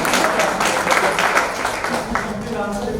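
Audience applause fills a conference hall during an environmental, social and governance deliberation session, steady clapping throughout with crowd noise and some voices mixed in.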